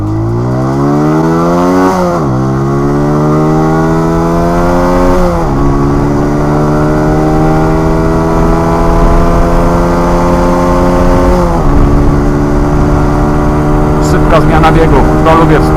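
A Junak RS PRO 125 motorcycle's 125cc engine runs steadily at close range, its pitch dipping and rising with throttle blips, loud and continuous throughout.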